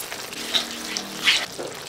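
A small splash of water hits a sizzling pan of Filipino sarsiado, and the close hiss and spitting sputter flare up in a couple of bursts over the steady frying.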